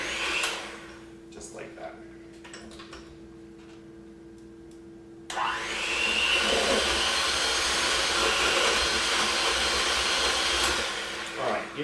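Electric mixer running on slow through banana bread batter, a steady whirring hum that kicks in abruptly after a quieter stretch with brief talk, then runs continuously and loud to the end.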